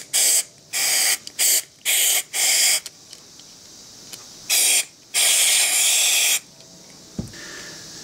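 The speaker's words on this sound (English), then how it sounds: "just spray in tons of motor cleaner until it drips out clear" Repeated bursts of aerosol motor cleaner spraying onto a brushed RC motor, several short and a few longer blasts with pauses between, close and loud.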